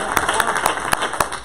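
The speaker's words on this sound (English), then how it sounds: "clap your hands five times" Congregation in a church claps hands together in a few sharp, spaced, loud claps over a murmur of crowd noise.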